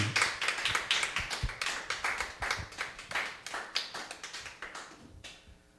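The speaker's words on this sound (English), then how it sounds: "Round of applause for Shelley." A small audience at a talk show claps for a guest, a dense run of sharp hand claps close by for several seconds that tapers off near the end.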